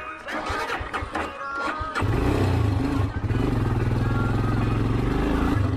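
A motorcycle starts up and rides along a road, its engine a loud, steady drone after some clattering at first; a voice speaks briefly at the start.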